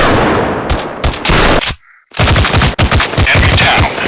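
Rapid machine gun fire from an FPS shooting video game on Android plays loud and close in several long bursts, with a brief near-silent gap midway.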